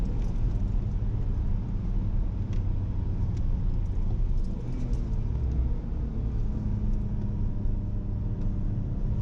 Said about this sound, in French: C'est nerveux quand même pour un petit 6 cylindres 2 litres pourri